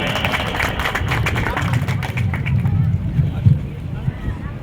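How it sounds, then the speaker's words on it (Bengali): Applause for Somen Debnath, honoured at a public gathering for cycling through 191 countries over 20 years; a dense, continuous patter of clapping holds steady throughout, mixed with crowd noise and a voice over it. "জোরে হাততালি তার জন্য"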